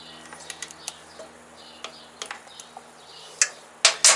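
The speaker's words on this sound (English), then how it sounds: "I can just break that free, and gear wrench it right off on there" A ratcheting gear wrench backs a nut off a Harley-Davidson Sportster battery terminal, giving sparse, light clicks that quicken into a few louder ratchet bursts near the end.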